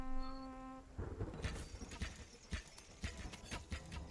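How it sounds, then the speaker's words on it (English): Horses clip-clopping in the strategy game Thronefall, a steady run of hoofbeats at close range after a brief held tone, with faint buzzing insect-like sounds mixed in. "See, the horses are going this way."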